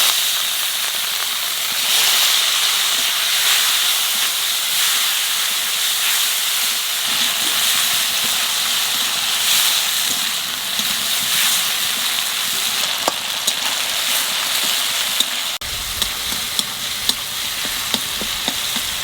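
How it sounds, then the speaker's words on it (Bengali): Ginger paste frying in a pan for a spicy fish curry, a loud continuous sizzle and hiss lasting throughout, with occasional stirring clicks and taps toward the end. "আদা বাটা, আদাটা একটু বাজিয়ে নিচ্ছি"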